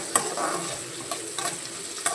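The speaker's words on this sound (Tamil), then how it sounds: "சின்ன வெங்காயம் நல்லா எண்ணெயிலே வதங்கிருச்சு" Small onions sauté in plenty of oil for a mutton curry, a soft steady sizzle with a few light stirring scrapes, close and on its own.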